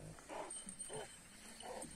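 Dog giving three short, soft whimpering yips spaced evenly apart, faint and fairly close against a quiet background.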